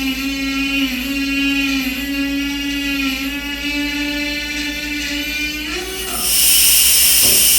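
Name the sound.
regulator purging excess pressurized air, hissing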